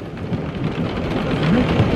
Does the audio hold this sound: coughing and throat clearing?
no